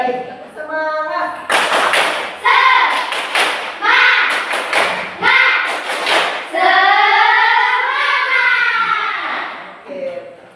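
A classroom of children joins their teacher in the 'tepuk semangat' spirit clap, with sharp, rhythmic bursts of hand claps mixed with loud group chanting throughout.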